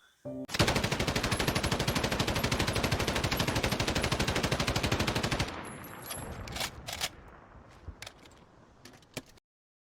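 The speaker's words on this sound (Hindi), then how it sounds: "लगातार एक के बाद एक 3 गोलियां उसे आकर लगी" Rapid machine-gun fire rattles loudly in a long continuous burst, then stops, followed by a few scattered sharp shots and clatters.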